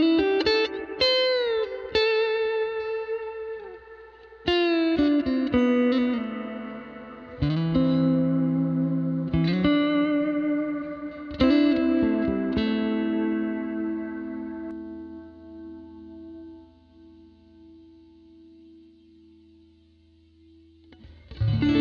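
A Valhalla Delay plugin in bucket brigade mode with modulation and reverb processes a melodic synth line, giving warm, dark repeating echoes that smear and wobble, then a long sustained tone that slowly decays; the music plays alone.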